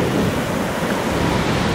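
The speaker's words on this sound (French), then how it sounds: "ce que j'adore là c'est le bruit des vagues" Sea waves wash onto a long beach in Normandy at low tide, with seaweed exposed. The surf is a steady, dense roar mixed with wind rumble on the microphone, loud and continuous with no distinct breaks.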